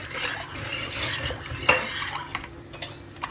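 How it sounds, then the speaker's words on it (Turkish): Dishes and cutlery clatter as a dishwasher is loaded in a home kitchen, with a steady run of light clinks and scrapes and one sharper knock partway through, close by, with no talking. "Annem de bulaşık makinesini yerleştiriyor."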